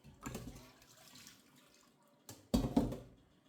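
Banga palm nuts being rinsed in water to wash out sand and stones, giving two bursts of splashing and sloshing close by, the first longer, then a brief pause before a louder final slosh that trails off.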